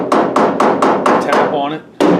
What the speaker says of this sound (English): normally I would just take the end of a hammer or a mallet and